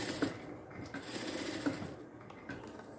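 A sewing machine runs steadily, stitching a round line along a fabric edge. The whirring is quiet and close and runs without a break.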